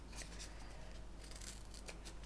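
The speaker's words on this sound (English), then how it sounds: "just use a simple pair of scissors and cut along the edge of the piece that I'm using" Several crisp snips of scissors cutting foam-backed plastic for an Airfix Mosquito PR XVI model kit, irregularly spaced over a low steady hum, close and clear.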